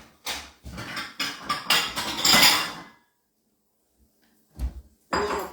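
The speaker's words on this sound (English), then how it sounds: "I'm gonna take off the onions and mushrooms." Metal utensils scrape and clatter against a plate while onions and mushrooms are lifted off a steak, a busy run of clinks and scrapes followed by a pause and two more short clanks.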